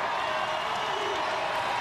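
Boisterous crowd at a college basketball game in Lubbock, a continuous dense roar of cheering and whoops filling the arena, steady and loud throughout.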